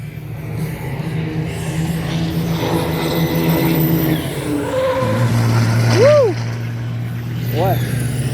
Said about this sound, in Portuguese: Chegou a arrastar, chega a cantar pneu.